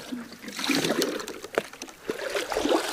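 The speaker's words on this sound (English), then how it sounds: "was the fact that it had a brook right here." Brook water trickling right beside a cabin, a close, continuous babble with small splashes and gurgles that rise and fall unevenly, with no voices over it.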